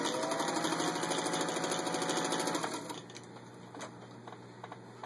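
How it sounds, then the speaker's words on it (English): A vintage 1938 Singer 201-2 industrial-strength sewing machine stitching through six layers of denim, a fast, even mechanical chatter that slows and quiets partway through, leaving a softer motor hum with occasional clicks. "just to show you how well the machine runs"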